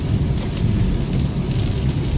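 Steady, loud rain drumming on a car while driving, a dense continuous wash of rain noise with low road rumble underneath and no talking.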